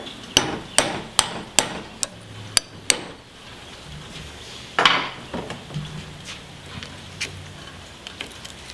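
A hammer strikes a punch to free the metal retainer ring on a steering gear box: seven sharp metallic blows in a quick, even rhythm, then a heavier hit and a few lighter scattered taps.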